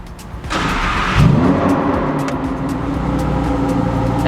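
A Lamborghini Huracan Evo starts up: a quick starter whir, then a sharp, loud engine flare that settles into a steady, throaty idle, with no talking.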